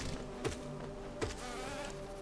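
Buzzing bees in the Hollow Knight video game, a steady insect drone with a couple of brief louder swells as the bees pass close, with no talking over it.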